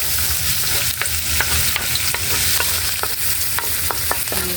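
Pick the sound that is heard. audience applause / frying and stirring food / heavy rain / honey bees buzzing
frying and stirring food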